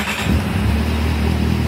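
Hot Kawasaki Z750 motorcycle engine with an ignition fault, running as if on three cylinders, gives a continuous uneven rumbling drone close by, with no talk.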